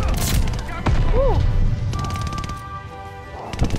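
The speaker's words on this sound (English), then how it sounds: "I love blind firing." Blind fire from a gun in Call of Duty Vanguard, with a gold MG42 unlocked: loud, close bursts of shots and thuds mixed with game sound effects, with no talking.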